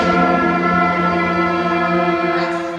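A sixth grade school band sounds its first note, sol, together as one long sustained unison tone, steady and fairly loud, fading slightly toward the end.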